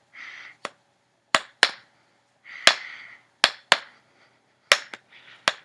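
Sharp taps knocked on a person's head, about a dozen hollow, dry knocks in an uneven rhythm, some paired, with brief faint humming between, close and clear.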